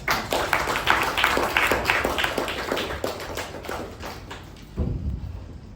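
A room of meeting attendees applauds for a speaker who just finished at the lectern, a steady crowd clapping that fills most of the stretch before thinning out near the end.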